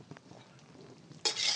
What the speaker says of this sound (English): We're gonna give this a stir